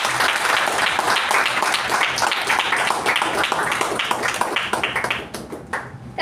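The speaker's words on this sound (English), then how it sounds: "Please let's give them a huge round of applause" Audience applause for newly installed Toastmasters club officers at a meeting, a dense, steady clapping from a room of people that holds strong for about five seconds, then thins and tapers away at the end.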